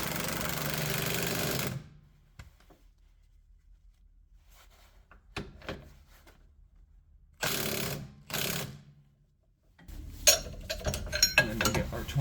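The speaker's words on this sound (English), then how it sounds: "turn down my impact a little bit because I want to get it close to the torque with the impact" Pneumatic impact wrench in a garage, turned down in power, running lug nuts on in a few separate loud bursts of buzzing and hammering with quiet gaps between them; there is no talk.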